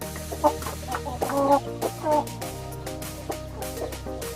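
A breeding hen of American-bred Shamo lines clucks in short repeated bursts, close and fairly loud, with other chickens faintly audible in the yard behind it.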